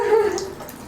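Water pours from a tap into a bathroom sink, a continuous splashing, rushing flow heard close by, slowly fading over a second, with no voices.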